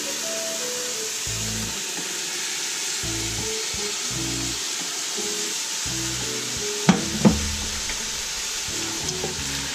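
Garlic, squash and zucchini sautéing in a pan, a steady close sizzle broken by repeated stirring scrapes and a couple of sharp utensil clinks.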